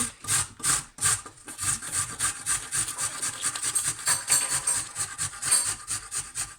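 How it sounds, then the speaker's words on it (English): Fresh ginger is rubbed against a cheese grater in quick, rhythmic rasping strokes, close up and steady for several seconds, with no talk. "I'm going to grate the ginger. With a cheese grater."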